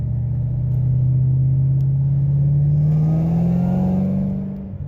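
A 2010 Ford Shelby GT500 with a Trinity 2.3 supercharger pulls at full throttle in third gear, a steady loud engine drone climbing in pitch for several seconds before easing off, no voices.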